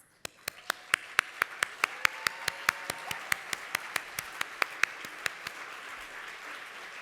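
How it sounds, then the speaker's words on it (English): Sparse applause at a GIA conference as current board members stand, with sharp, evenly spaced claps standing out over a softer bed of clapping. "If our current board members would please stand for a round of applause."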